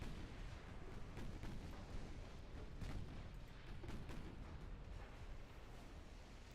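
Secondary guns fire at cruisers in a naval battle in Ultimate Admiral Dreadnoughts, a dense run of distant booms over a continuous rumbling roar.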